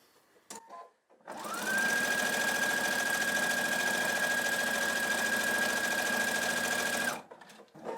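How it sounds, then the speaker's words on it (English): Sewing machine stitching all the way around a modern mini quilt, starting after a soft click and then running at a steady, even whir for about six seconds before stopping, close and loud with no voice over it. "So we'll just start here and we'll sew all the way around the quilt."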